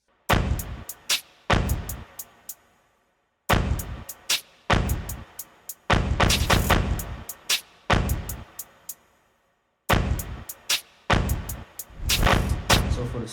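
Heavy drill-beat stomp hits with reverb, booming thuds in syncopated clusters, some reversed swells leading into them, loud and roomy with gaps of silence between phrases.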